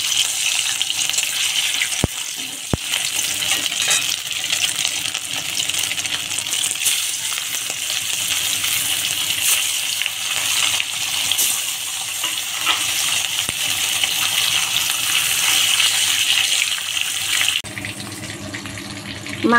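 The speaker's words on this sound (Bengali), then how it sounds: "তেলের উপর মাছ দিয়ে দিলাম" A single piece of catla fish fries in hot oil with a loud, constant crackling sizzle that runs unbroken for most of the stretch before shifting near the end.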